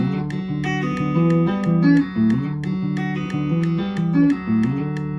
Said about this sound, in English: So now I'm going to play it with a metronome